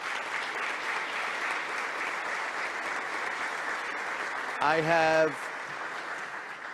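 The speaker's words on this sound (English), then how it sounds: "everyone in the St. Anne's Corner family deserves a tremendous round of applause" Sustained audience applause at the St. Anne's Corner benefit gala, a steady broad crowd clapping throughout, briefly overlaid near the end by a single voice speaking.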